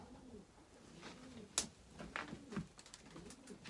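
At an outdoor bird show, a pigeon gives soft, rolling coos in a few low phrases. The calls are faint, with a couple of sharp knocks and handling noises in between.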